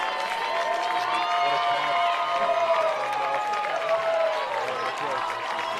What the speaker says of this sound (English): That's the loudest cheer